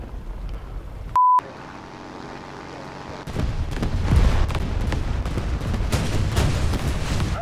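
In War Thunder, a bomb goes off with a loud, close blast after a short tone and a silent gap, then heavy rumbling and crackling debris and gunfire carry on densely to the end.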